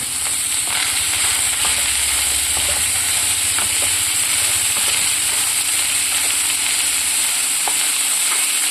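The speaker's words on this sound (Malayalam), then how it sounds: "ഇളക്കി കൊടുക്കാം." A loud, constant frying hiss from an onion flower stalk stir-fry in a pan, with occasional stirring scrapes and taps heard close up over the continuous sizzle.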